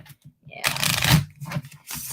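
Cards shuffled for a card reading: several quick riffling bursts, close and fairly soft, separated by short pauses.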